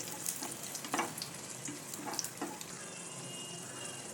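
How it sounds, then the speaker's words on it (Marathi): Almonds, cashews and raisins frying lightly in ghee give a soft, steady sizzle with a few brief stirring clicks and scrapes in the pan, close up and with no talk. "बदाम काजू टाकते मनुखे टाकते तुपामध्ये हलकेसे परतून घ्यायचे ते"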